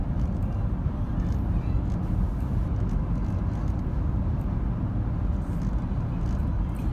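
Interior of a 2017 Chevrolet Tahoe Premier cruising on a highway at around 61 mph with adaptive cruise control engaged, a steady low road and engine rumble filling the cabin without a break, no one speaking.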